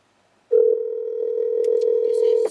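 A phone call's tone sounds as one steady, loud electronic beep lasting about two seconds, with faint background noise near its end.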